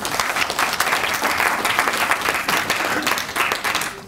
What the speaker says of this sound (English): You can give us a round of applause.